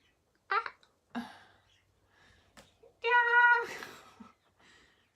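A house cat meows several times indoors, close up, with short chirps and one longer drawn-out meow amid quiet pauses.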